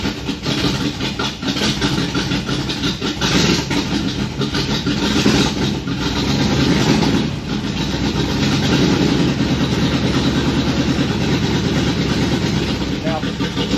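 A Chevrolet Biscayne engine cranks and catches, then runs with a loud, rough, steady idle close by, with faint talk in the background.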